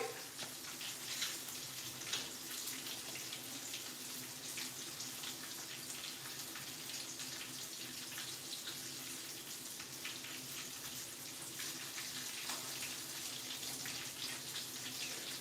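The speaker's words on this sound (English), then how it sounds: "you got to wash them dishes as you go" Tap water runs steadily into a sink while dishes are washed, a constant faint hiss and splash with no talk over it.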